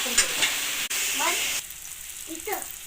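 Dill and potato vegetable is stirred in a pan, a hissing sizzle with scraping strokes, close by, while someone talks over it in short phrases.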